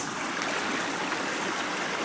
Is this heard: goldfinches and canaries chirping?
no